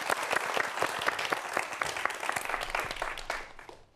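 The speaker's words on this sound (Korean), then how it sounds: "강연 박수로 청해 듣겠습니다" Lively audience applause for a lecture on forensic science, a dense run of close, crisp hand claps that fades away in the last half second.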